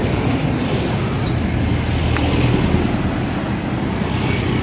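Steady traffic on a highway, a continuous broadband roar of passing cars and vehicles with low rumble, close and constant throughout without any clear pauses.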